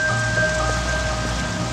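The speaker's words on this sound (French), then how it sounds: "La pluie qui tombait ce soir-là." Steady rain falling on an evening, a dense, even hiss of drops on surfaces with no voices, continuous and fairly loud throughout.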